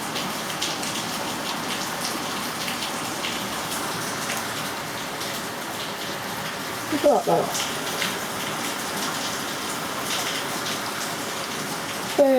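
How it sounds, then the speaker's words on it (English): Heavy rain pours down outdoors, a dense continuous hiss and patter of drops on surfaces that runs steadily throughout, with a few brief louder splashes and someone speaking briefly over it. "Still raining. Peeing down, isn't it?"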